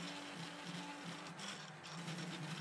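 A 3D printer running at 40 mm/s gives a steady, quiet mechanical whir and hum with faint buzzing motor tones, continuous and unbroken throughout.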